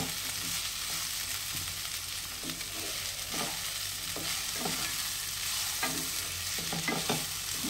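New potatoes, flat beans and onion stir-fry in a hot pan, giving a steady close sizzle broken by repeated short scrapes and knocks of a spatula against the pan, with no talking.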